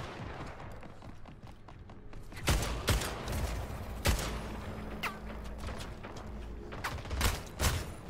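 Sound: gunfire shooting through a wall in Splitgate video game

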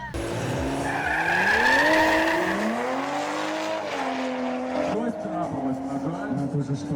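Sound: drag racing car spinning tires to warm them

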